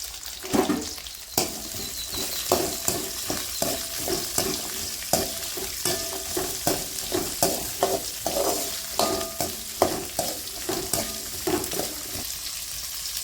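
Onion and chili fry in a hot pan for goat head fry, with a continuous loud sizzle and rapid, rhythmic spatula scrapes and clinks close by, and no voices.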